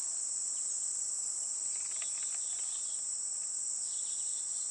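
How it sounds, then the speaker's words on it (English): A dense, continuous high buzzing drone of insects around goldenrod in a garden near a bog holds steady throughout, with faint background sounds. "Oh, look at all the insects on it."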